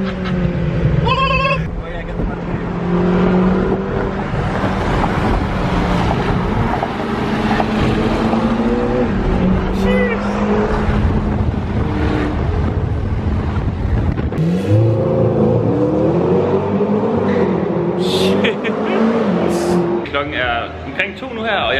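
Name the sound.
Lamborghini Urus driving fast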